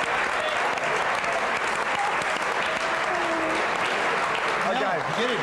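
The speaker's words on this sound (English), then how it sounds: "Give a big round of applause for another legend" Sustained applause from a large studio audience for a former AFL football great, dense and steady clapping throughout with faint crowd voices mixed in.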